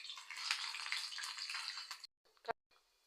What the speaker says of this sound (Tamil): கடலைப்பருப்பு நல்லா பொரியட்டும்.